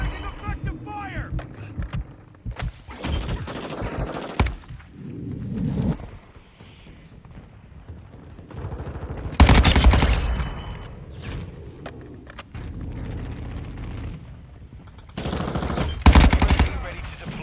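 Bursts of machine gun fire crackle in a Call of Duty Modern Warfare II battle, with heavy loud volleys mixed between quieter gaps, radio-style shouted callouts and game voices over the shooting.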